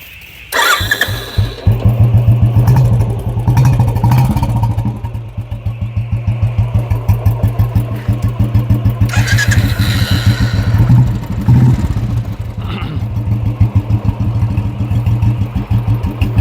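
A Royal Enfield Bullet motorcycle in a vintage colour scheme starts up and settles into its loud, steady, rhythmic single-cylinder thump at idle, with a few revs partway through and no talk.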